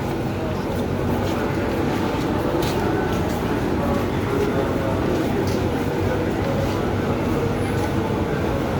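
A dedicated farmers' and traders' train runs on the Rangkas to Merak line at Java's western tip, its cars giving off a steady, close, unbroken rumble of wheels and carriage noise.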